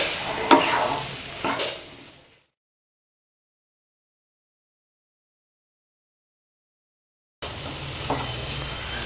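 Mashed potato is mixed into masala frying in a pan for aloo paratha, giving short scraping stirs over a light sizzle. The sound cuts to complete silence for several seconds, then the stirring returns.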